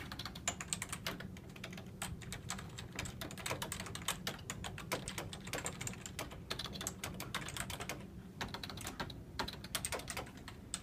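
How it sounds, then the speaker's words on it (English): A person types on a computer keyboard at close range, a quiet, continuous run of rapid key clicks and taps with an uneven rhythm and no talking. "I'm going to record her typing for a couple minutes"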